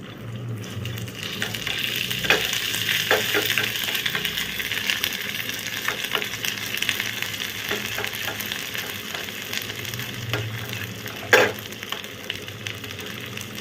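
Grated ginger frying in melted ghee, a steady close sizzle with scattered stirring scrapes and a sharp clink near the end, no voices.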